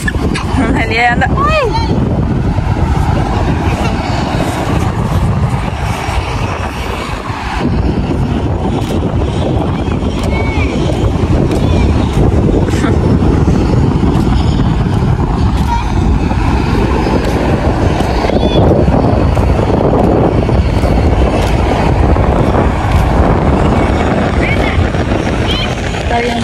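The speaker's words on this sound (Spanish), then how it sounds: "Fuerte la brisa del mar." Strong sea breeze at a beach buffets the microphone with constant low rumbling roar, mixed with engine-like drone and occasional voices underneath.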